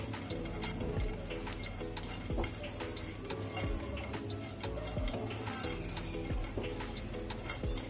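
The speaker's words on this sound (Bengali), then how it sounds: "কাজু আর আলমন্ড কুচিগুলোকে অল্প ঘিয়ে এগুলোকে রোস্ট করে নেব, অর্থাৎ ভেজে নেব" Chopped cashew and almond bits roast in a little ghee, a soft continuous sizzle under repeated scraping and stirring taps of a spoon against the pan, fairly loud and close, with no voices.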